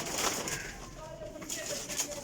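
Sialkoti flying pigeons coo softly in a loft, low murmuring calls under a busy backdrop of other birds and faint voices nearby.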